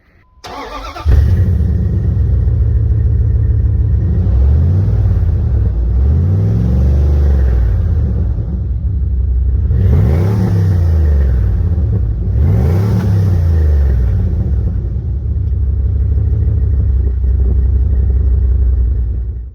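A 2002 Dodge Ram 1500 pickup with the 5.9 V8 fires up and idles loudly and steadily nearby, with a few swells where the engine is revved, and no voices over it.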